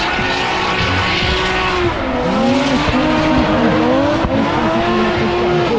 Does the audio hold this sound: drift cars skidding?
yes